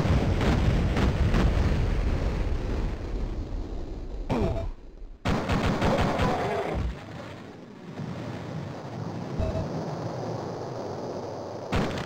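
Gunfire and explosions from the 1996 PC game Duke Nukem 3D, an alien-invasion shooter, with dense loud bursts of shots and blasts filling most of the stretch, a brief near-silent gap around the middle, then continued rumbling fire.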